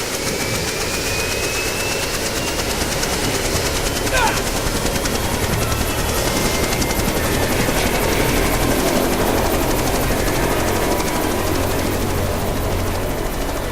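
A helicopter's rotor thumps steadily alongside engine roar and bursts of rapid gunfire in Jurassic Park: The Game, loud and continuous throughout.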